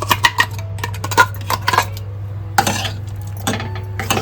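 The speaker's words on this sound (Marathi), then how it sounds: "सर्व मिक्स करून घेतोय" Teryachi bhaji, a wet vegetable curry with ground fresh-coconut paste, being stirred in a pot with a metal spoon, giving repeated close scraping clinks and knocks against the pot's sides over a steady low background hum.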